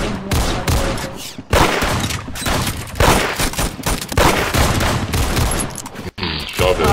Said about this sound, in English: Wait a minute, this gun can fire rapidly.